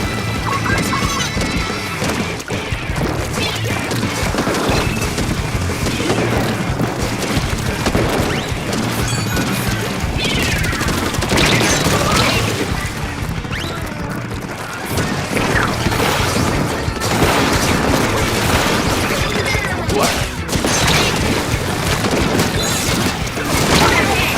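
Bombs and missiles blast over and over during a Splatoon 3 match, a loud, dense run of crashing booms and smashes that barely lets up from start to finish.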